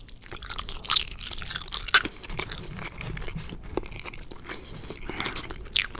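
Crunchy bites and soft chewing on BBQ mac and cheese, close and intimate, with a few sharp crisp bites standing out over steady moist mastication and no talking.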